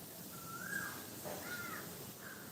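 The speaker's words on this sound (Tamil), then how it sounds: "காக்கா ஒரு பக்கம் கத்துது" A crow caws twice in quick succession outdoors among trees, fairly faint and a little distant, with a third short call trailing off over a soft breezy background.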